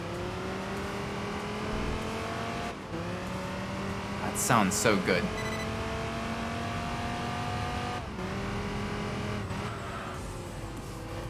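Race car V10 engine in Enthusia Professional Racing, revving and dropping off throttle with a high racing transmission whine while braking, plus a brief sharp squeal in the middle; someone talks over it.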